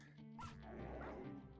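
A dog fighting in RimWorld, with short barks and yips over a busy mix of game sounds, heard at a low level without speech.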